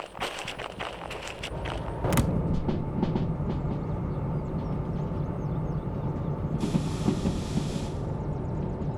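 A train rumbles steadily along the track in the Derail Valley simulator game, with low continuous rolling noise, scattered clanks near the start and a brief hiss later, no voices.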